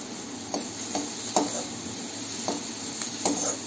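Capsicum and carrot frying with onions in a pan for white sauce pasta, a steady close sizzle broken by a few sharp scrapes and taps of a spoon stirring against the pan.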